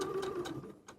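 A sewing machine stitches the brim of a bucket hat, a quick rhythmic mechanical whir with a steady hum and regular ticking pulses, close and fairly quiet, with no talk.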